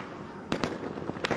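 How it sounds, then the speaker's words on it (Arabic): Explosions at Aden airport, near the terminal hall, heard as a few sharp, distant cracking bangs in quick succession, two close together and then another after a short pause. "في المطار، دوي انفجار، دوي انفجار"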